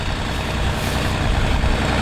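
A tractor engine runs loud and close on a farm with a dense, steady low rumble and diesel growl. It holds constant for the whole stretch with no voices.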